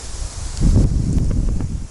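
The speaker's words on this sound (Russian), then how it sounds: "Ветер поднимается сильный" Strong wind gusts buffeting the microphone on a stormy lakeside while fishing, a low rumbling roar that swells after a quieter start and stays loud and steady.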